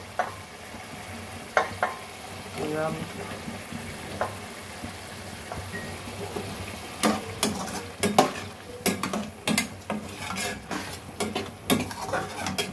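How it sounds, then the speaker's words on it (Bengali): Potatoes fry in a pan with lightly cooked spices, sizzling softly while a spoon scrapes and clinks against the pot in irregular stirring bursts, close and fairly quiet. "মশলা হালকা কষানো হয়েছে, আলু দিয়ে দিলাম"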